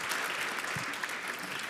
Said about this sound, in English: I'd like to suggest a round of applause to our panelists